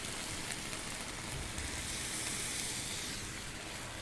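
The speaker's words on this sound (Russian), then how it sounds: "Слушай, что-то уже, по-моему, шипит." Mushroom risotto sizzles steadily in a frying pan with broth, a continuous close hiss with no break and no voices.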